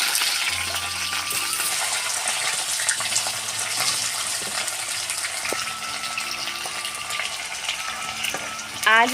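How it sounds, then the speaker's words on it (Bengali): Potatoes fry in 75 grams of mustard oil in a wok, giving a continuous bright sizzle and crackle with faint clinks, steady throughout and swelling briefly at the end. "আলুগুলো মনে হয় ভাজবে।"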